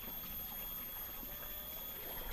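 Water trickles steadily from a spout behind a village house beside a well, a faint, continuous low wash with no talk over it.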